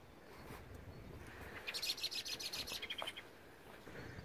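A blackbird sings in a garden, a clear run of bright warbling phrases standing out mid-clip over a soft outdoor background, fairly close and fading after a few seconds.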